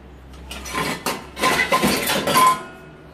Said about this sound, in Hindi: अब सबसे पहले हम नीचे वाली ट्रे में से जो हमने बड़े बर्तन रखे थे वो निकाल के देखेंगे